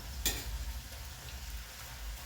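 Homemade chips fry in hot oil as square-cut pieces go in, a quiet, steady sizzle with a short splashy burst near the start as the slices hit the oil.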